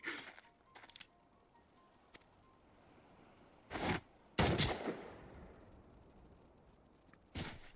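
Gunshots ring out in a Final Fantasy XIV Stormblood cutscene: a few sharp bursts spaced apart, including a loud close shot with a lingering tail, over otherwise quiet surroundings.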